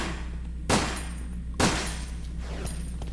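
Two sharp gunshots ring out in the Resident Evil Dead Aim video game about a second apart as zombies are shot in a sewer, each blast followed by a decaying echo over a low background drone.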